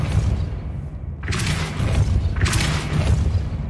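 A Depulso spell is cast twice in Hogwarts Legacy, with two loud whooshing blasts about a second apart over a steady low game rumble.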